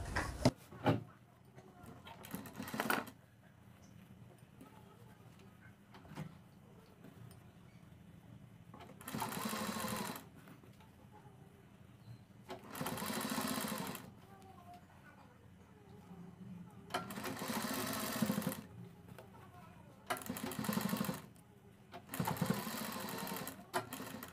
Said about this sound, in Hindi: इसके चारों तरफ सिलाई लगा देंगे इस प्रकार से